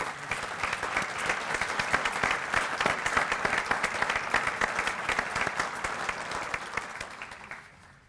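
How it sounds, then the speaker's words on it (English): An audience at an awards ceremony breaks into a sustained round of applause, dense clapping filling the room for several seconds before tapering off at the end. "Please stand for a round of applause."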